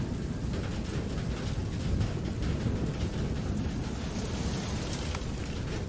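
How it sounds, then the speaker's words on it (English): Steady rain pours throughout in the video game FAR: Lone Sails, a dense rushing wash with a low rumble underneath like distant thunder; no voices. "In the dark and stormy rain."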